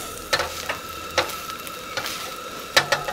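Food is stirred through in a wok over a low steady sizzle, the spatula scraping the metal in short, spaced strokes, close and without talk.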